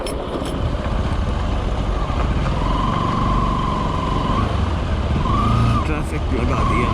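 Road traffic on the mountain route to Tungnath is heard from a motorcycle, with a steady engine and road roar, passing vehicles and a couple of horn-like tones nearby.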